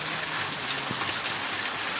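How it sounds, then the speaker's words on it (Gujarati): Rain falls steadily, a dense even hiss of drops spattering on surfaces, constant and fairly close with no voices. "અત્યારે તો વરસાદ ચાલુ હોય ને"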